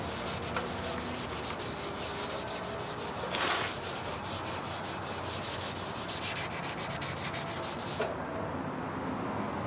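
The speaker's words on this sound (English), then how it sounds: "we're all sanded down here" Steady abrasive rubbing of sanding paint off a Ford F100 truck body, continuous and fairly close, with a few brief louder strokes and no talking.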